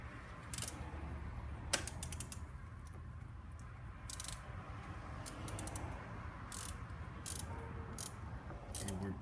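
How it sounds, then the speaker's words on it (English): A ratchet with an extension and 17mm socket tightens the oil filter on a 2003 Honda CBR600RR, giving close, repeated bursts of sharp metallic clicking separated by short pauses. "take your extension with your 17mm, twist it on the rest of the way."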